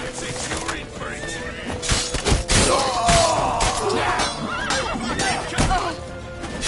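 Horse whinny in The Witcher on PS4, a rising neigh mid-clip amid loud crashing game action and shouting voices, with thuds and busy battle noise throughout.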